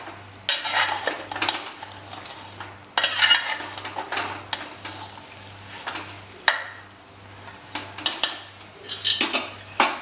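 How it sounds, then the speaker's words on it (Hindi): Marinated mutton and spices being turned over in a pot, with repeated scraping and clattering of a spoon against metal in irregular bursts and a soft sizzle underneath, close by and without talk. "हमारा जो मैरिनेट किया हुआ मीट है, इसे एक बार हम बढ़िया मिक्स कर लेते हैं।"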